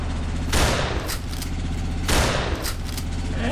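Shotgun gunfire in the video game Ravenfield sounds as two heavy booming blasts about a second and a half apart, each trailing off over a continuous engine-like rumble.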